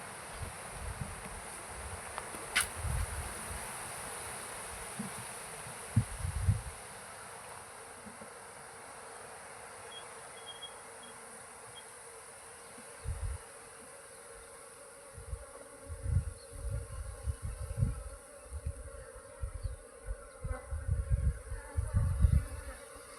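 A swarm of bees drones in a steady, continuous buzz outdoors, with louder passes from individual bees swelling up close and rustling handling noises in between.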